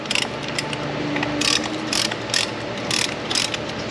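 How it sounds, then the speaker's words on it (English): A ratchet wrench clicks during brake work on a rusty northern truck, steady rapid pawl clicking with several louder bursts as the handle swings back and forth, close by and without talk. "Use my little ratcheting guy."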